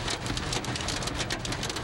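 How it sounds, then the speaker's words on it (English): Hail pours down on the I-75 highway during a storm, a dense, continuous patter of hard impacts that stays loud and steady from start to end, with no voices. "this is video of hail coming down on I-75."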